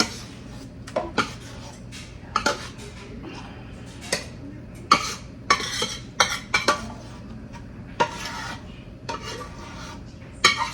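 A spoon scrapes and clinks as seafood dressing is scooped into a small baking pan in a home kitchen at Thanksgiving, with irregular metallic taps and scrapes over a low steady room hum.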